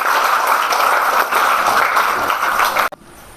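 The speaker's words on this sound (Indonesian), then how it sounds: "Nah, tepuk tangan, betul." Applause from a seated audience at an Islamic boarding school alumni gathering, dense steady clapping that runs loud and unbroken for about three seconds, then stops abruptly into quiet room tone.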